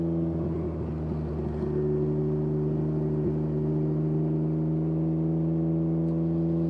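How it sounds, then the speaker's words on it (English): A Can-Am Ryker fitted with a Two Brothers S1R exhaust gives a loud, boomy, steady drone heard from the rider's seat. It holds a constant throb with faint revving flutters early on and no talk. "sitting right on top of this boomy exhaust is pretty noisy"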